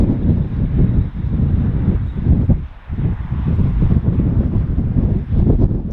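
Strong wind buffets an open outdoor setting on an autumn day, a loud continuous roar with gusty rises and dips and heavy low rumble across the microphone.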